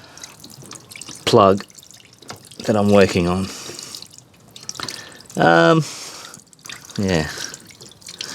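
Water drips steadily from the cracked door seal of a Samsung front-load washing machine whose drain hose is blocked, a soft ongoing trickle beneath a voice talking close by.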